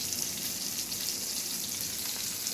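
Pomfret fish shallow-frying on a flat tawa, giving a continuous even crackling sizzle at moderate level, close and steady with no speech.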